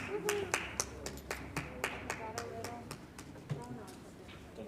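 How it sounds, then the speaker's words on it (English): A few people clap at a council work session, sparse and fairly close, with separate distinct claps at an uneven rhythm rather than a full ovation. "What was the applause for?"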